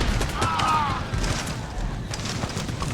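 Musket volley fire in a siege battle in Empire: Total War, a dense rolling fusillade of overlapping gunshots with distant booms, continuous and loud under a voice talking.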